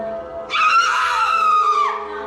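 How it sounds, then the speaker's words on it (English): A woman in a scary video lets out a single sharp, loud scream lasting over a second, close to the microphone. "As soon as she touches the object to her friend's arm, she screams as if the object burns her to the core."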